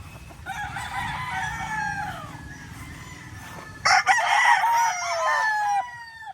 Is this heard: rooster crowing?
yes